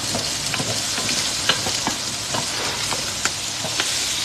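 Garlic and onion sautéing in a pan for sinigang, a dense continuous sizzle with soft scraping stirs scattered throughout, close and loud.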